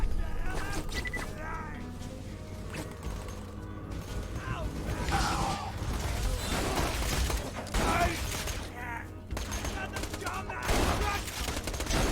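Rapid bursts of gunfire and booming blasts crackle through a dense, busy Borderlands 2 game soundscape, with scattered mechanical clanks and occasional voices underneath.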